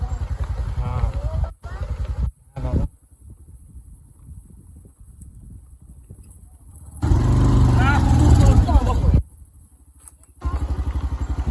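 A motorcycle engine drones steadily on a slippery hill road near Pangali waterfalls, cutting in and out and growing louder for a stretch, with people talking over it.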